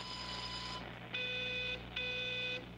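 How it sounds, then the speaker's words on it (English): An electronic telephone ringing in Everybody's Gone to the Rapture, inside an observatory: a steady high warbling tone in repeated bursts, roughly three rings with short gaps, clear and close with no one talking. "there's a phone obviously ringing"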